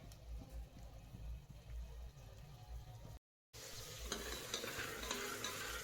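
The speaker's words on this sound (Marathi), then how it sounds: "तर हा कांदा छान मी तेलामध्ये परतून घेतला आहे." Onion paste sizzles in oil inside a pressure cooker while being stirred, a steady close crackle with scraping, briefly cut off before resuming louder and brighter.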